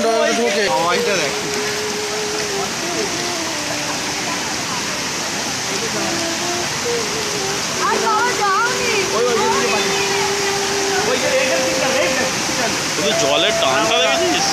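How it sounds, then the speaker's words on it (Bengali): Strong current of the flooded Damodar River rushing loudly and steadily throughout, a continuous broad roar of water with voices talking over it. "জলের টানটা দেখেছিস?"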